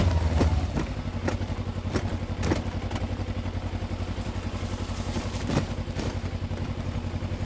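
A Kawasaki Versys X 300 motorcycle rides off-road with a steady, rough single-toned engine drone and occasional thumps and clatter from the rough ground, heard close throughout.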